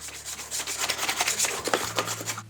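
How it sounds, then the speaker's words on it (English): 150-grit sandpaper on a sanding block rubs back and forth over a wall in quick, repeated strokes, a dry scratchy rasp close up with no voices. "I'm lightly sanding it with 150 grit sandpaper"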